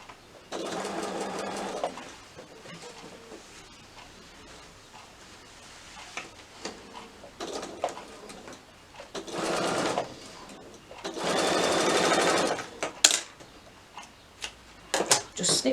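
Sewing machine stitching bias binding onto a small batik wallet, several separate runs of rapid whirring stitching broken by pauses, with handling noises between them and a voice talking at times.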